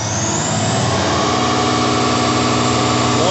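International HT530 diesel engine with a high-pressure oil pump held under throttle, a loud, close, steady droning roar that rises slightly in pitch without pause.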